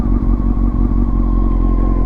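A Honda CBR929RR motorcycle with a new radiator and heavy modifications runs loud and close during a test ride, its engine holding a steady, buzzy drone with a faint rattling clatter.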